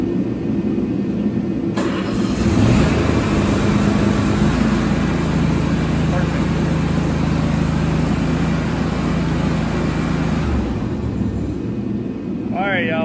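A lawnmower engine cranks and catches, then runs at a steady, loud, close drone for several seconds before cutting out, with a voice speaking briefly near the end.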